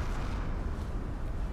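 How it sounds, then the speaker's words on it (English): Deep rumbling underwater explosions from a sinking ship in the submarine game Silent Hunter 4, a steady low roar without clear breaks, fairly loud and dense throughout. "Complete with explosions under the sea."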